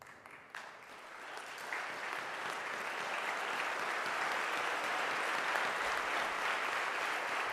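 Sustained applause from a large crowd at a University of Nairobi student recognition ceremony, steady and full throughout, building slightly after a brief start and holding at a constant level.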